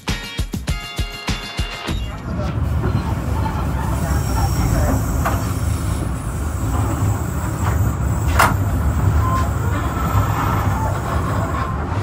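A Sri Tanjung passenger train rolls steadily through a station area in Indonesia: a dense, continuous rumble of wheels and carriage noise that begins after a few sharp, rhythmic knocks, with a brief high squeal midway.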